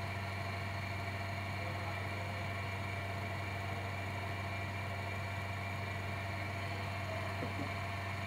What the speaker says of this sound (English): you'll run the engine for some few moments